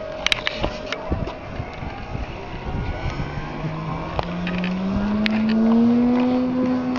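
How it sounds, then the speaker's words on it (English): A Henschel Hs 129, a German twin-engine World War II attack aircraft, takes off with a rising engine drone that builds and climbs in pitch, mixed with scattered clicks and some talking. "There goes the Henschel, the twin-engine attack fighter from World War II, from the German Luftwaffe."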